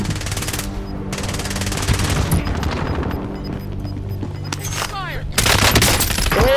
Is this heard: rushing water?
no